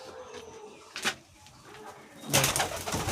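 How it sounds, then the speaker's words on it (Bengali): Domestic pigeons coo close by in a few soft, throaty bursts, the last one longer and fuller, with light rustling and no talk. "একটা পায়রা ছেড়ে দিলাম গাইস বাইরে"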